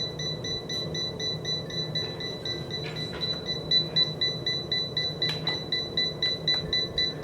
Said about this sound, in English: It's beeping at me saying reset.